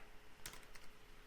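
Brief burst of typing on a computer keyboard, a quick cluster of key clicks followed by a couple of lighter taps, faint and close in a quiet room.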